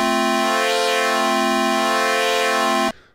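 A Korg Minilogue synthesizer plays a single sustained, bright, buzzy tone with its oscillator wave shape modulated, holding steady for about three seconds before cutting off abruptly.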